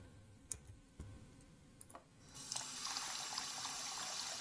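A few faint clicks, then hot water starts running from a tap in a steady hiss that continues to the end.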